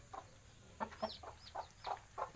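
Chickens with newly hatched chicks make soft, rhythmic clucks and a few thin peeps, fairly faint and close, repeating in short pulses over a quiet background.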